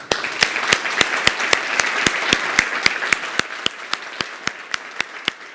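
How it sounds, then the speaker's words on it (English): Crowd applause for presenters at a façade industry summit, a sustained wash of many hands with a steady, evenly spaced series of sharp, close claps cutting through, gradually thinning toward the end. "please take the audience applause for brilliant presentations"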